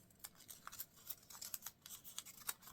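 Scissors snip through paper while cutting out a paper poinsettia leaf shape, a quiet run of short, crisp clips and rustles repeating every half second or so.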